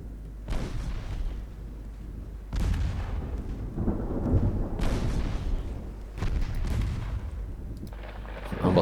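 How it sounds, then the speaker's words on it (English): Two-inch naval guns fire in a naval warfare game: booming reports arrive in repeated bursts, each followed by a rumbling tail, several heavy shots across the stretch. "Two-inch guns are opening up."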